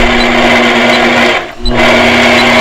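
A longarm quilting machine stitches a pantograph design in glide thread, a loud steady mechanical whir that dips briefly to near silence for a pause at a point before resuming.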